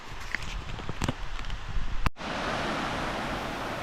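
Manora waterfall in Thailand, running with plenty of water: a broad, steady roar of falling water that cuts in abruptly after a couple of seconds of rustling and footsteps, loud and continuous.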